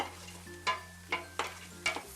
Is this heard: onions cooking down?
yes